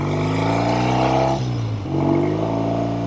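A 1970 Triumph TR6 engine roars steadily up close, dips briefly as the revs fall, then climbs again with a throaty, harmonic drone.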